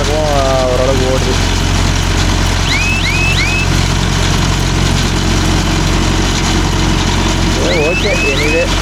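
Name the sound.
Mahindra Yuvo Tech Plus 585 DI 4WD tractor engine running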